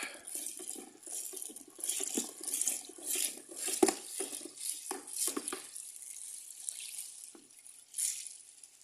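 Homebrew sloe and hawthorn wine being stirred during fermentation, with liquid sloshing and swirling in soft, uneven bursts, a few sharper knocks and clinks breaking through a continuous watery churn at close range.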